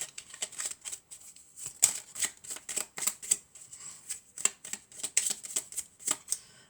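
Oracle cards shuffled by hand for a card reading, a quick run of crisp riffling flutters repeating in an irregular rhythm, close up with no speech.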